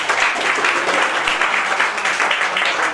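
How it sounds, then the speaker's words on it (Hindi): Steady applause from a crowd, a dense wash of many hands clapping continuously at an even volume. "जरा क्लैपिंग होनी चाहिए।"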